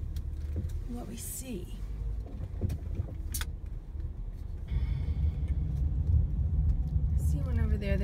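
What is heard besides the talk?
car driving around the back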